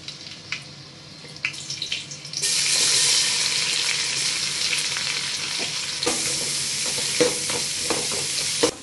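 Sliced onions frying for a soy biryani hiss in a hot pan, a steady sizzle that swells after a few seconds, with scraping stirs and clinks breaking through near the end.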